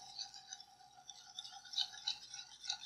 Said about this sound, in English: the longer that you like sit here and whisk it, like I'm doing, it'll eventually get thicker